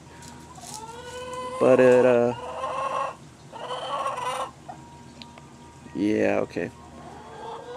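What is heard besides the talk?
chickens clucking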